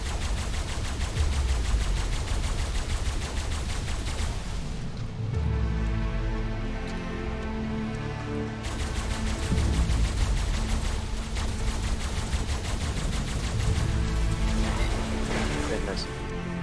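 Sustained tech rifle fire on a generator in the Ark survival game during an underwater tribe raid, a dense continuous rattle of rapid shots lasting the whole stretch, with people talking over it.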